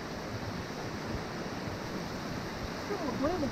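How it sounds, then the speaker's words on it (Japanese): Constant rushing roar of a mountain waterfall, broad and steady throughout, with a faint bird chirp near the end. "滝だらけです。"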